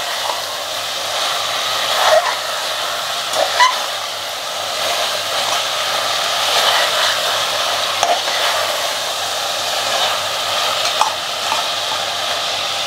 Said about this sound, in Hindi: अदरक लहसुन के पेस्ट डालने के बाद हमें भूनना है।